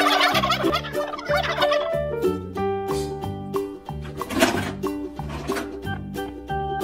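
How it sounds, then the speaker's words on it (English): A toy turkey gobbles repeatedly in loud, close bursts over a bouncy electronic tune from the farm animal toy, with no talking. "Turkey."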